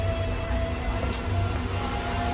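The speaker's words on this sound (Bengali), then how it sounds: "এই যে ট্রেন দাঁড়ায় রয়েছে এখানে" A passenger train stands stopped at a station, giving off a steady low rumble and a faint, constant high whine with no clear movement, while the surroundings stay steady throughout.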